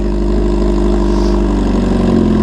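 A hyper naked motorcycle engine idles loud and close, holding a steady low throbbing rumble throughout with a slight swell near the end and no voices.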